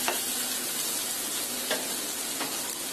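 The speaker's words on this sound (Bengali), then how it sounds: "আমি মশলাগুলি টমেটোর সাথে ভালো করে ভেজে নিয়েছি।" Spices fry with tomatoes in a pan, making a steady, dense sizzle throughout. A few faint stirring scrapes come through over it, close and with no voices.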